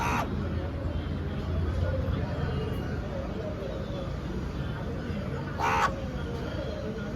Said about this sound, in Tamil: இங்கே பாருங்க புளி சாதத்துக்கு காக்கா வந்துட்டாங்க